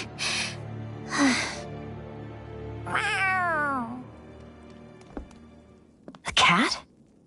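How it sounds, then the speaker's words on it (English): A cat meows in the Tales of Arise video game, one clear, drawn-out falling meow amid brief vocal sounds and a few soft knocks and breaths. "A cat? Where'd it come from?"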